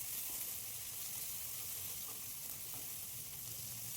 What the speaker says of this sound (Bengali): এখন টমেটোটা গলে যাওয়া পর্যন্ত সব কিছুকে ভালো করে কষে নিতে হবে।